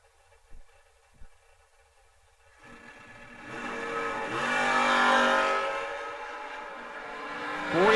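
A third-generation Camaro launches down a drag strip, its engine swelling from a faint rumble into a loud sustained roar that peaks mid-run and holds strong, heard alone without talk.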